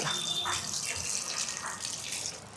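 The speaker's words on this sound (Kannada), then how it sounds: "ಹ್ಯಾಂಡ್ ವಾಶ್ ಮಾಡ್ಕೋಬೇಕು" Water runs steadily from a tap as hands are washed beneath it, a continuous close splashing gush with slight fluctuations and no speech.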